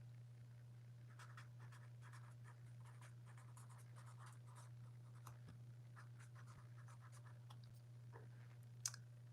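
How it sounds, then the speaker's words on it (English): Pen scratching notes onto paper by hand, soft close scribbling strokes in short bursts over a low steady hum, ending with one sharper tap. "Let me write that down real quick"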